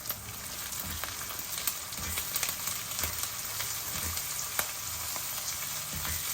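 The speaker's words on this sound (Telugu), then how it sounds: "మన ఉల్లిపాయలు మంచిగా వేగిపోతున్నాయి" Onions sizzling in a pan with curry leaves, a continuous bright crackle and hiss with small pops scattered throughout, close and steady, with no voices over it.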